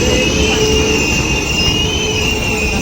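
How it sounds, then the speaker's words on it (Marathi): A passenger train pulls into a station, its loud continuous rumble joined by sustained high-pitched wheel squeal throughout, close and dominant with no clear speech. "आली ट्रेन आली बाबा लवकर आली."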